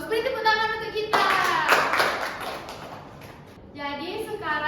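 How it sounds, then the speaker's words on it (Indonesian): Elementary schoolchildren in a classroom clap together for a short burst, a bright cluster of claps lasting about two seconds, framed by a teacher's voice before and after. "Beri tepuk tangan untuk kita"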